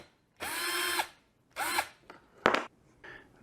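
A power drill whirs in two short bursts, spinning up and winding down while backing screws out of a wooden crate around a custom-built PC, followed by a sharp clack and a brief softer whir.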